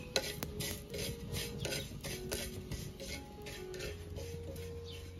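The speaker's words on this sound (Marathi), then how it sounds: "सगळ्यात अगोदर थोडं तेल टाकलंय मी आणि त्यामध्ये हावरी आणि खसखस हे दोन्ही भाजून घेते" Hawari and poppy seeds roasting in a little oil on a pan over low heat, a quiet steady scraping and rasping of a spatula stirring the seeds, with faint clinks against the pan and no talking.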